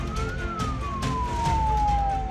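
An ambulance siren wails in a single long, slowly falling tone over the steady rumble of a traffic jam, sounding fairly close and continuous throughout.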